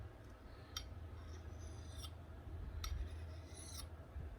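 An axe blade is stroked over a homemade dual-grit Jade sharpening stone, giving faint, short rasping scrapes spaced a second or so apart against a quiet low background.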